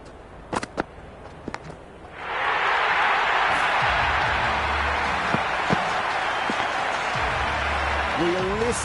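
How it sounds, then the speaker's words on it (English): A loud, sustained crowd roar swells up suddenly and holds steadily in a T20 cricket video game match, following a few sharp knocks, with faint distant sounds underneath. "Will you listen to that crowd? They are loving this."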